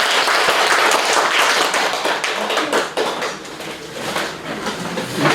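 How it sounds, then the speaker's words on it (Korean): Audience applause for a newly arrived monk at a Buddhist temple gathering, a dense, continuous roar of many hands clapping that holds steady for several seconds, full and close in a large room. "환영의 박수 보내주세요"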